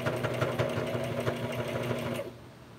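A domestic sewing machine runs steadily at close range, its motor humming with a fast rhythmic stitching clatter for over two seconds before stopping abruptly, with no talk.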